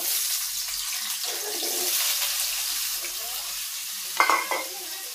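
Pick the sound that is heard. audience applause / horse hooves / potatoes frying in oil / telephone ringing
potatoes frying in oil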